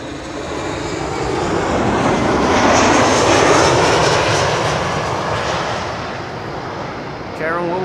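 A 26-year-old Boeing 737-800, registration PH-BXA, arriving at Schiphol on the Kaagbaan runway, delivers a loud, close jet-engine roar that builds to a peak midway, then gradually fades as it passes.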